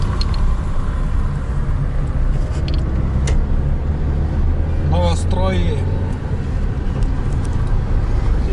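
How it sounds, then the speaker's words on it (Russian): Busy city street in Syktyvkar, the capital of Komi, with many cars making continuous road noise as vehicles pass, while someone talks over it. "Ну, движение как и в Москве. Очень много машин."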